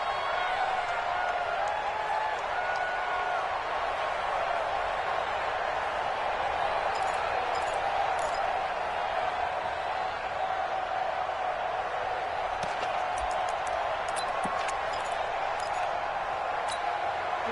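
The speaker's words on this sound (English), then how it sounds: "The crowd here in the Dome making things difficult." A dense, steady roar from a football crowd inside the Dome during a Saints–Lions game, spread wide and continuous, with scattered sharper shouts rising from it.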